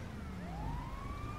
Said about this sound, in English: No, that's the ambulance.